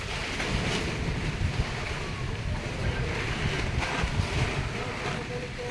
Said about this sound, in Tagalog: Lakas ng hangin dito eh.